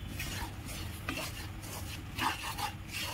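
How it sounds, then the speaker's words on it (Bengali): A spoon scrapes and stirs flour roasting in ghee in a pan while modak is made for Ganesh Chaturthi, a steady soft rasping with faint sizzle and occasional light clinks of utensil on metal. "ঘি দিয়ে ময়দাটা এইভাবে ভালো করে ভেজে নিতে হবে, যেন পুড়ে না যায়।"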